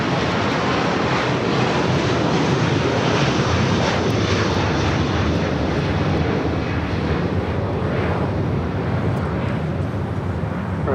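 A heavy Boeing 777 airliner on approach at LAX roars loudly and steadily, its engine noise a broad, unbroken rumble throughout.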